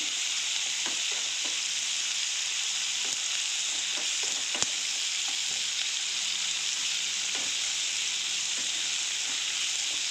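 Tomatoes fry in a pan while drumstick leaf sambar is being made, giving a steady close sizzle that runs throughout, with occasional soft stirring knocks and no voices.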